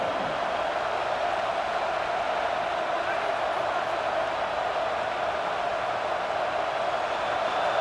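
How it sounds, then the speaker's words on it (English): Steady roar of a stadium crowd in College Football 26 during an LSU at Alabama game, a dense continuous wash of noise rising for a red zone defensive stand, with talk over it. "This crowd is trying to inspire this defense to make a big red zone stop."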